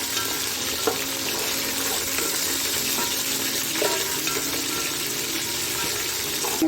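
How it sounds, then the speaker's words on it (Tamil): Onions and garlic with curry leaves sautéing in a pan for a pomfret fish curry, a dense continuous sizzle with occasional stirring scrapes, close and steady. "நல்லா வெங்காயத்தை வதக்கிட்டீங்க"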